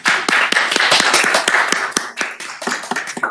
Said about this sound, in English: I think we ought to give our staff a little applause for the work that they've done.